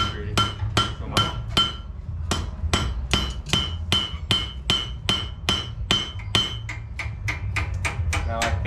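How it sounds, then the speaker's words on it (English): Repeated hammer blows on hot iron during a forge weld by an old village blacksmith, loud ringing strikes in a steady rhythm of about two per second with short pauses, close by and heard alone. "Now I think I got a successful weld."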